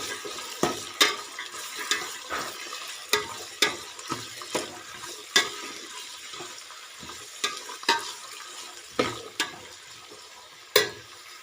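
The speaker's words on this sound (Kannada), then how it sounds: "ಟೊಮೊಟೊ ಜೊತೆನೆ ವೆಜಿಟೇಬಲ್ಸ್ನೆಲ್ಲ ಹಾಕಿ ಫ್ರೈ ಮಾಡಬೇಕು." Vegetables and tomato fry in a pan for rice upma under a soft, steady sizzle, while a spatula knocks and scrapes against the pan in repeated short, irregular strokes.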